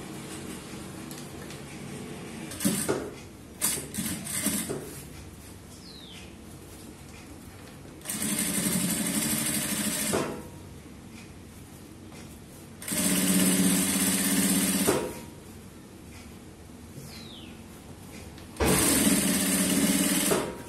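Close by, a tailor's sewing machine stitches a folded blouse piece in four loud, steady runs of a few seconds each, with quiet gaps and soft fabric handling between them.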